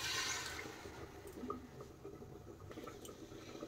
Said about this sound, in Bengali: আর দিয়ে দেব জল